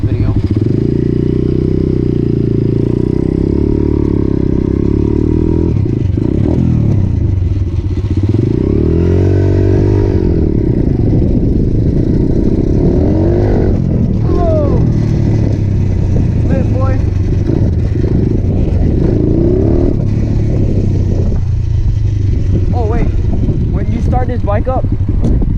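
A motorcycle engine runs steadily throughout a ride, a low continuous drone with shifting revs, while someone talks over it almost the whole time.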